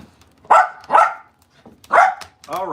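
Small dog named Charlie barking in short bursts, three sharp yips spaced about a second apart, then a whining, wavering whimper at the end; close and fairly loud.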